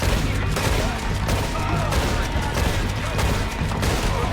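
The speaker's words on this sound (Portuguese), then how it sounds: "Você pode disparar a arma sem mirar" Gunfire from a character shooting without aiming in the video game Red Dead Redemption 2, a dense, continuous burst of shots filling the whole stretch at steady loudness with no talk.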